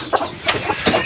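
A broody hen clucks in short, close bursts over newly hatching chicks, several soft clucks spaced irregularly across about a second with no talking.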